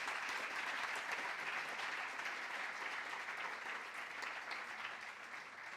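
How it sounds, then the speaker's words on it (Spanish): Audience applause at the close of a talk on topological objects in physics, a steady dense clapping that holds at an even level for several seconds before easing slightly. "un aplauso para él."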